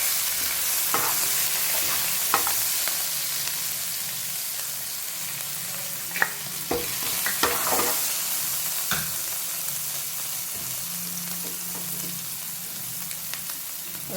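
Red chilli, bay leaf, hing and garlic-chilli paste sizzle steadily in hot oil, with a constant close frying hiss and occasional clinks of a spoon stirring the pan.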